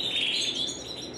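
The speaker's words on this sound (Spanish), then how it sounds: "Esto tiene 2 pajaritos amarillos, 2 pichones a punto de despertar." Two young yellow nestling birds, close to weaning, chirp from the nest in a steady, high, continuous stream of thin tweets, close and fairly loud with no talk.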